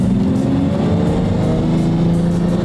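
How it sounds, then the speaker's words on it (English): A manual V12 Lamborghini pulls away on its first drive, the engine's deep steady drone loud and continuous from inside the car, with no talk over it. "First drive. This car's really easy to drive, by the way."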